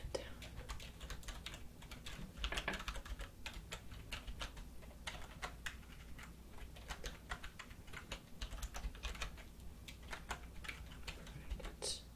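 Soft steady typing on a computer keyboard while notes are written during a dermatologist exam role-play, quick continuous key taps close by with faint low background hum.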